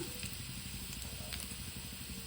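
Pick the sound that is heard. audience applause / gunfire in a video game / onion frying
onion frying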